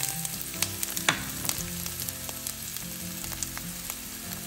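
Garlic and onion fry in a pan with a steady, close sizzle and crackle, broken by a few stirring scrapes and small pops.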